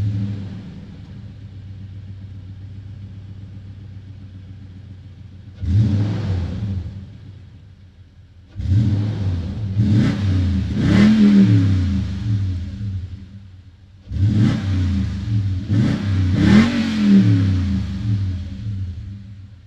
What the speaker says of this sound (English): let's go ahead and take a listen to that exhaust